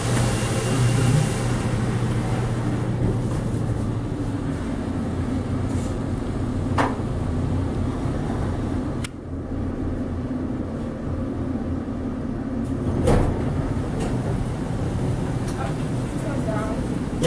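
Westinghouse elevator rising in a metro parking garage: a steady low mechanical hum and rumble with a few clunks and knocks along the way, while people talk over it.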